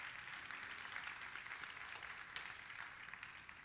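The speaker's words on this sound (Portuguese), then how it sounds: "Você pode dar um aplauso na liberdade do Espírito nessa noite?" Steady applause from a church congregation, continuous clapping across the whole moment at a moderate, fairly distant level with no clear voices on top.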